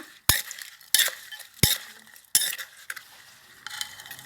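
Thai crab and fermented fish papaya salad is stirred and pounded in a bowl, a series of about five sharp knocks and clatters spaced roughly every half second to second, each with wet rustling, close and with no voice.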